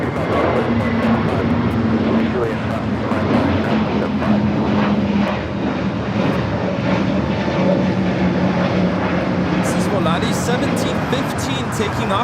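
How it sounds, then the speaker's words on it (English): An Airbus A321neo jet departs from LAX, its engine roar steady and loud throughout while someone talks over it. "Taking off to Guadalajara on the A321neo."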